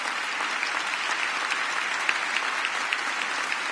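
Audience applause for maestro Carlos at a cultural conference event, a steady dense wash of clapping from a sizable crowd, even and sustained with no voices over it.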